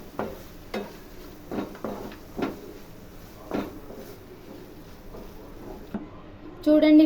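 Carrot halwa with cardamom powder being stirred in a pan, a series of soft scraping strokes at a slow irregular rhythm, close and moderately quiet, ending with a brief louder clatter.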